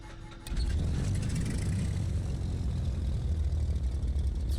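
A twin-engine Cessna 310 in Flight Simulator 2024 starts its left engine: a quiet lead-in, then a sudden loud, steady low rumble of the running engine and propeller that holds on without talk.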